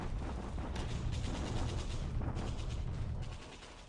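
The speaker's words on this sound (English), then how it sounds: "Bombardment at Bandung." Bombardment in the naval war game War in the Pacific, a dense, loud burst of booming artillery-like blasts and crackling fire that rolls continuously for a few seconds before easing off, with no voices.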